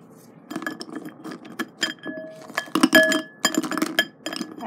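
A utensil stirs ingredients in a bowl, giving a run of irregular clinks and scrapes against the side, close and moderately loud, with short bursts and pauses between strokes.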